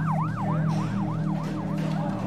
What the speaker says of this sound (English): An ambulance drove by.